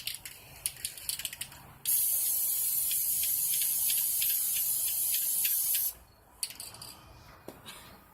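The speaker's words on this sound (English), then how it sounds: "This is the top coat going on, the top coat for my third planet." An aerosol spray can applies top coat to a painted model planet in one long, steady hiss of about four seconds, preceded and followed by light tapping and handling noises.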